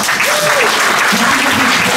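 Audience applause at a Special Olympics national games honours ceremony for athletes, a steady dense clapping throughout with brief voices and shouts rising through it.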